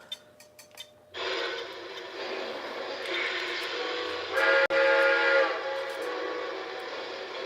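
AC-12 cab forward steam locomotive running on rails, a steady loud rumble and hiss that sets in after a few faint knocks and carries on with a brief whistle-like tone partway through.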